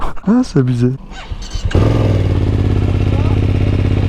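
A new BMW motorcycle engine fires up after brief talk, settling into a loud, steady, rumbling idle that runs close by to the end; a voice exclaims just before it starts.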